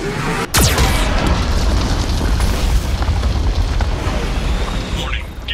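Loud, continuous booming explosions from a Geth cannon in the video game Mass Effect 2, starting abruptly after a brief whoosh and rumbling steadily throughout, with a synthetic warning voice speaking over them.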